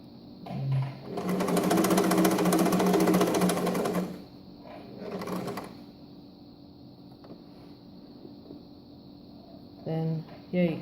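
A sewing machine stitches a centered zipper in a loud, rapid mechanical burr for a few seconds, then runs a shorter burst. A voice speaks at the start and end.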